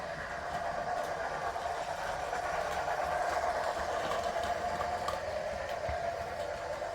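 Battery-operated Lionel Thomas toy train rolling on O gauge track, a faint continuous mechanical whir and rumble with soft clicks, running steadily without any talk.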